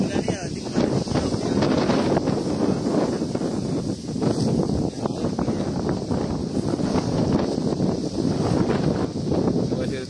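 Strong wind buffets the microphone on a hilltop in Lenggeng, Negeri Sembilan, a loud continuous roar with gusting surges throughout and no clear speech.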